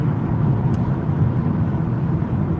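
A car on the road, heard from inside as a steady, fairly loud low engine and road rumble that holds constant with no talking.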